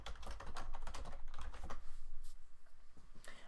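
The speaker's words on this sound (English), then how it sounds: "I'm going to type that in here too." Rapid keystrokes on a computer keyboard, close and fairly quiet, a dense burst of clicks followed by sparser taps.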